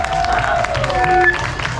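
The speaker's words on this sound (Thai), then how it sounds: "ผมอยากได้ยินเสียงปรบมือดังๆ" A crowd at a Buddhist Lent candle procession at a Thai temple claps loudly and steadily, mixed with festival music tones and some speech.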